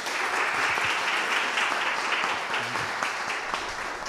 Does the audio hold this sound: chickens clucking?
no